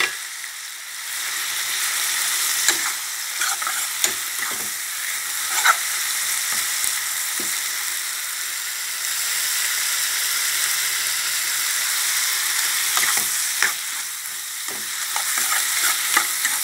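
Minced pork with dried chilli and holy basil stir-fried in an oil-free pan gives a steady close sizzle, with scattered scraping clicks from the spatula stirring the mix.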